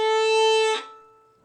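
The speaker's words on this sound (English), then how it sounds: "Because for most people, when they stop the bow, it sounds like this." A sustained bowed string note that ends abruptly with a harsh scratchy crunch, then a faint ringing decay.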